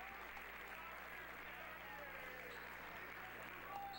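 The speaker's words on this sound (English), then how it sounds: "And Fagan gets a big round of applause" Applause from a crowd in a high school basketball gym, a steady, dense roar of clapping at moderate volume that holds evenly throughout, with voices mixed into the din.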